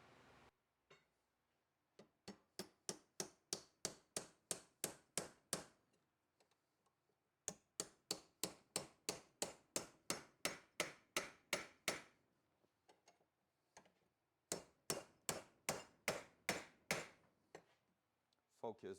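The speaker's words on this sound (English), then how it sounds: "see if I can just start it with the hammer here" A hammer strikes Datsun car parts during wheel bearing assembly, loud close metallic blows in three rapid, evenly spaced bursts with short pauses between.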